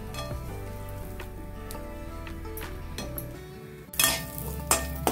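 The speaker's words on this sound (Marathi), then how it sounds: "त्याच्यातच आता काजू पण मी तळून घेते" Cashews fry in hot ghee in a pan with a steady, close sizzle, while spoon and pan clinks break in sharply near the end.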